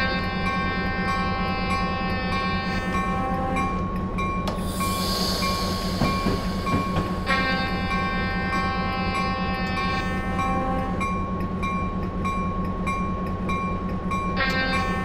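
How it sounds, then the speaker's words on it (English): EMD SW1500 switcher locomotive horn sounding for a crossing on the Kalispell to Columbia Falls route in Train Simulator 2015, a steady loud sustained blast held over continuous rail and engine rumble, with short breaks between long tones. "it seems I've completely misjudged the horn point for this particular crossing. So I end up leaving the last blast on for far too long"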